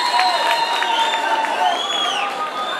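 Crowd applause at a public gathering in Muyinga, a continuous burst of clapping and cheering voices that stays loud and fairly even across the moment.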